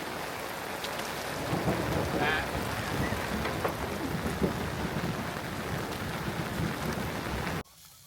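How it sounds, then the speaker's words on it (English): Heavy rain pours steadily with rumbling thunder during a thunderstorm at a riverside campsite on the Arkansas River, a loud, dense wash of drops with low rolls underneath that cuts off near the end. "And the rain's stopping."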